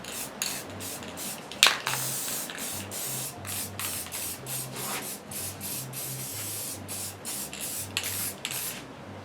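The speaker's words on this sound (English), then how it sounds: "I'm just going to overspray these guys." Silver chrome paint being sprayed onto metal spines of a shield replica, heard as a string of short hissing aerosol bursts in steady repeated pulses, close and fairly quiet, with a single sharp click early on.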